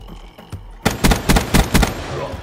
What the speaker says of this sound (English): I'm gonna go with the Shiva. I've never really tried this gun.